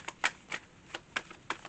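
Tarot cards are shuffled by hand in quick, crisp riffling bursts, about six short papery flicks in a row, close and clear with no talking.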